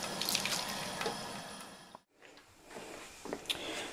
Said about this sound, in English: So now I'm going to rinse it out.